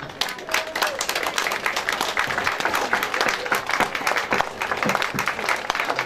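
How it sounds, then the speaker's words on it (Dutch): Applause from a crowd at a shop opening, continuous, dense clapping that carries on steadily throughout, with some voices mixed in. "Applaus."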